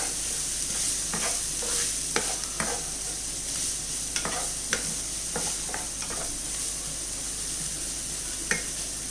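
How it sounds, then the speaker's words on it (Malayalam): Onion and garlic sizzle while being sautéed in a pan for butter paneer masala, a steady close frying hiss broken by repeated scraping stir strokes, with no talking. "ഈ ഉള്ളിയും വെളുത്തുള്ളിയൊക്കെ നല്ലതുപോലെ ഒന്ന് വഴറ്റിയെടുക്കാം."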